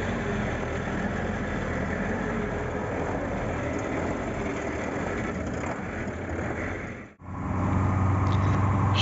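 A truck with a 236 engine running steadily while driving straight, a continuous mid-pitched drone with road rumble that dips briefly and then returns.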